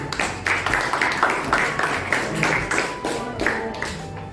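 Students in a vocational high school classroom give a round of applause, clapping in quick uneven bursts that stay close and steady for several seconds before tapering off.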